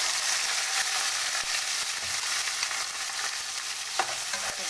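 Chopped liver sizzles steadily in a hot pan with hot chili and bell peppers, Alexandrian style, with occasional stirring scrapes over a dense, continuous frying hiss and no talking.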